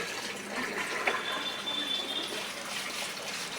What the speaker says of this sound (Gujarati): મશીને પાણી લેવાનું ચાલુ કરી દીધું છે